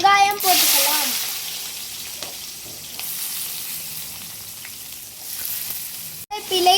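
Onions hit hot oil for a murrel fish curry and sizzle steadily with a bright, crackling fry close to the pan, while a person speaks at the start and end.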